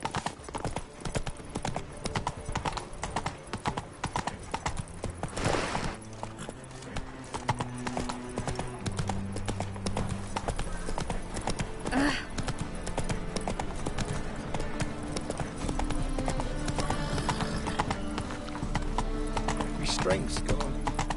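A horse gallops in The Witcher 3, rapid rhythmic hoofbeats clopping steadily throughout with an occasional whinny, under music and spoken game dialogue.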